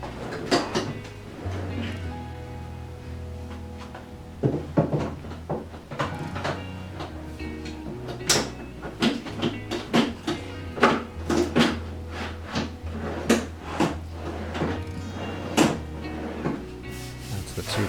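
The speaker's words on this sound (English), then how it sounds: "They were really stiff, but once you open and close them a few times, they started to work in." Metal drawers on a Harbor Freight Yukon workbench slide open and shut repeatedly, each stroke ending in a sharp clack, at a quick irregular pace over a low background hum.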